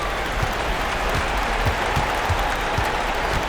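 Home crowd noise from an NBA 2K26 basketball game, Pelicans hosting the Grizzlies: a steady, dense roar of cheering and applause sustained throughout at even loudness, with no clear talk over it.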